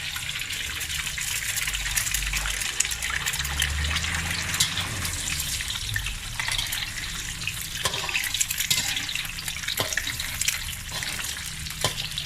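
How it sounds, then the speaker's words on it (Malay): Two eggs drop into hot oil in a wok for Malaysian fried rice, giving a loud, steady crackling sizzle that hisses on without pause, with occasional clicks of a utensil. "Okay, minyak dah panas. Kita masukkan telur. Masukkan 2 biji telur."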